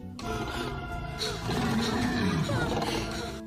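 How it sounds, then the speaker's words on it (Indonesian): A dinosaur roar from the Jurassic World film: a loud, sustained, growling roar with a sweeping pitch that rises and falls, filling the whole moment with no speech over it. "Lalu mereka mendengar auman dino dan bersiaga."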